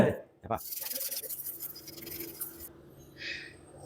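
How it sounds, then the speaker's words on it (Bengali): A burnt wok is scrubbed hard with a scourer and Pitambari cleaning powder, giving a quick run of rhythmic, gritty rubbing strokes close by that then trail off into quieter scraping. "এটাকে আবার কিন্তু ওই কাবার দিয়ে ঘষছি একটু চেপে চেপে মাছতে হবে"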